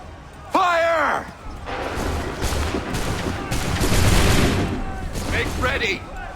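Musket volleys crack out in a battle scene from the video game Assassin's Creed 3, loud crashing shots layered with shouted commands and a broad roar of gunfire that swells and fades over several seconds.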